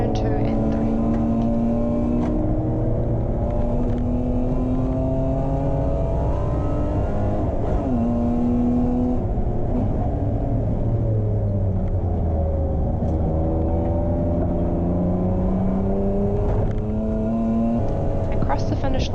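Race car engines at Hampton Downs circuit during an ERC round, including an E36 and a small Alfa, droning loudly and continuously, with pitch rising and falling through gear changes across the whole stretch.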